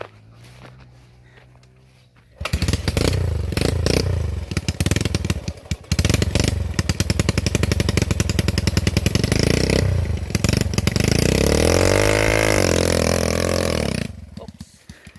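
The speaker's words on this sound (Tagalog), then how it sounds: "Ano ba yung motor dito?" A motorcycle engine fires up near a mountain trail rest stop and runs loud and close with a rough, pulsing idle and revs for about twelve seconds before cutting off abruptly.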